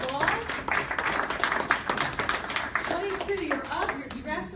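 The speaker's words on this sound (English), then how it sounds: "give that man a round of applause" A round of clapping from the audience at a networking event, a moderately loud patter of hands running throughout while people talk over it.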